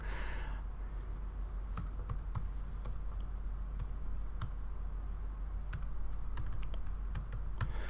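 Typing on a computer keyboard to enter a folder name, with irregular bursts of close, crisp key clicks over a steady low background hum.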